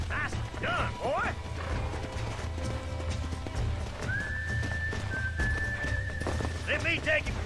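Horse hooves clip-clop and a whinny in Red Dead Redemption 2, set under a steady bed of game music with a long whistle-like tone and talk mixed in.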